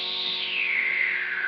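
Hiss from an Audiostorm Grand Classic Distortion pedal, steady and continuous, its bright upper band sweeping gradually downward as the pedal's range control is moved.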